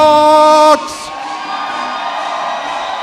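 A crowd cheers and whoops loudly for Mindfox at a roller derby game, a dense burst of shouting that cuts off sharply and gives way to a lingering hall murmur.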